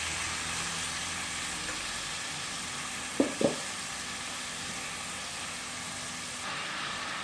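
Chicken pieces fry in a pot with a steady, fairly quiet sizzle, broken by two sharp knocks of a utensil against the pot near the middle; nobody speaks.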